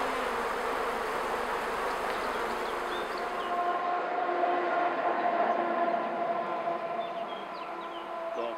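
A honeybee colony in an opened hive during a queen change hums steadily and close by. The buzzing holds for the whole stretch, with a brief shift in tone partway through.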